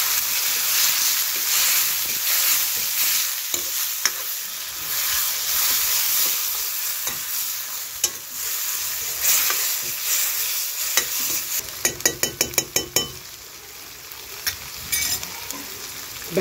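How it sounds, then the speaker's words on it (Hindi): Onion, tomato, garlic, ginger and green chilli fry in a pan in a village kitchen, a steady hiss and sizzle broken by the scrape and clink of stirring, with a quick rattling burst near the end and no talk. "प्याज भून गया है, टमाटर लहसुन अदरक"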